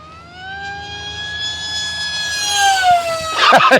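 An FMS Flash 850mm RC plane's electric motor whines at full throttle, a loud steady tone that climbs slightly before breaking into rough, gusty noise at the end.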